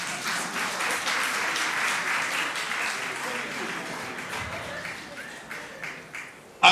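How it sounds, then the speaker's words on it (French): An audience applauds the prize winners of an anti-corruption contest with dense, lively clapping that stays strong and then tapers, ending in a brief loud bump. "On les acclame très fort, ce sont tous les lauréats"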